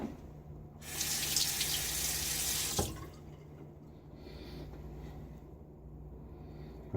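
A bathroom tap runs for about two seconds with a bright, close hiss of water as a razor is rinsed after a shave, then shuts off, leaving faint drips and quiet handling sounds.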